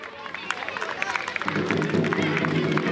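Applause and a crowd's babble swell up at a school annual sports competition, the clapping building to a steady, dense roar of many hands from about halfway through.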